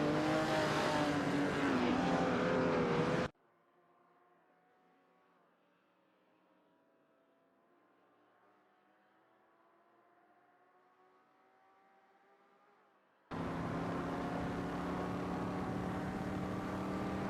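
AI-driven supercars racing at Weatherfield Speedway in a racing video game, loud continuous engine drone that suddenly cuts to a faint hum for about ten seconds, then returns just as loud.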